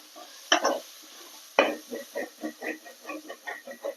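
A spoon works chili powder and chicken masala around a pan, two sharp scrapes followed by a steady run of rhythmic stirring strokes, close and fairly quiet over a faint sizzle, with no talking.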